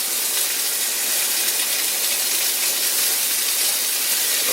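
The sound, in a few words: bacon slices sizzling in a cast iron pan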